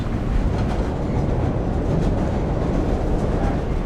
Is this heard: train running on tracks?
yes